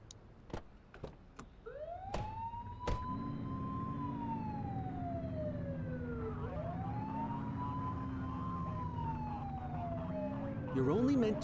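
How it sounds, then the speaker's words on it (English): A police car siren in The Precinct video game wails loudly and continuously, rising and falling in long sweeps, with a few sharp clicks and thumps just before it starts. "You're only meant to use the siren in emergencies."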